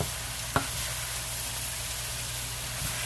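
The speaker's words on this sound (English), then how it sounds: "You get them all stirred up in there really good." Chicken and rice casserole ingredients stirred in a pan give a steady soft sizzle and hiss, with one sharp scrape of the utensil early on and a fainter one near the end.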